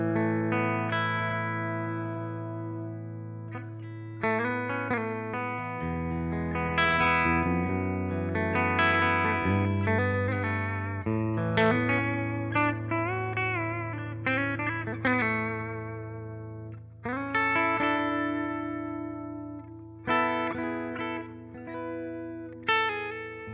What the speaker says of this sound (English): So bridge pickup, here's what she sounds like.